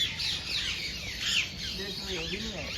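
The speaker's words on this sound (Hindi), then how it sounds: "और ये देसी तोता अपना," A native Indian parrot squawks in a bird park in Udaipur, a few harsh, rising calls at moderate distance, with a voice speaking faintly underneath.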